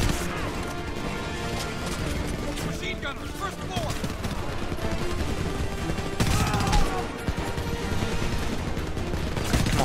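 Enemy gunfire in the shooter Homefront rattles continuously in a busy firefight, with dense bursts, crashes and impacts layered together and louder blasts around the middle, while a voice talks over it.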